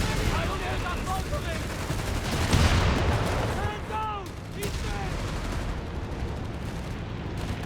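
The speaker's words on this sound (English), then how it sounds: "Massive explosion there as well." Battlefield combat in Company of Heroes 3, an Italian-front match pitting Wehrmacht against US forces: a dense, continuous clatter of gunfire with a heavy blast swelling near the middle, all fairly loud, while a commentator's voice runs underneath.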